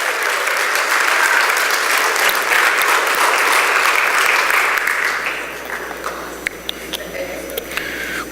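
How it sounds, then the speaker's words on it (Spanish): Church congregation applauding during a bilingual Spanish-English sermon, a loud, full round of clapping that holds steady and then fades into scattered individual claps over quiet room tone. "dale un aplauso al Señor por eso"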